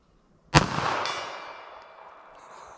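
A single sharp gunshot from a .32 ACP revolver with a 5-inch barrel, loud and close, fired alone and followed by a second crack and a long fading echo.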